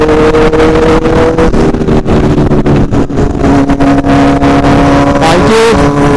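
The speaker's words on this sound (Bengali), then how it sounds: "বাইকের আওয়াজটা কি আর কিছু বলার নেই।" A superbike engine at a bike event runs loud and close, with a throaty, rumbling exhaust whose pitch steps up and down as the rider blips and revs, alongside the drone of other passing vehicles.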